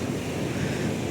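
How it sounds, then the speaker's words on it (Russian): Waves washing onto a beach at Blagoveshchenskaya with wind buffeting the microphone, a dense continuous roar without a break. "Сегодня ветерок, волны."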